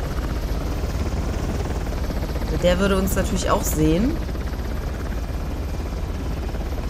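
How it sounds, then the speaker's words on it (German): Helicopter in the video game Uncharted: The Lost Legacy, a steady rotor drone that runs throughout, with someone speaking briefly over it midway. "Was ist ein Heli jetzt?"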